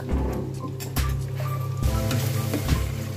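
Chopped tomato sizzling in a pan with fried onions, a steady close frying crackle with a few stirring clatters and a burst of louder sizzle partway through, no talking.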